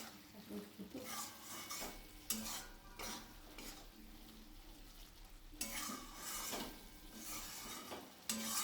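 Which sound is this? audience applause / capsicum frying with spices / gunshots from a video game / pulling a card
capsicum frying with spices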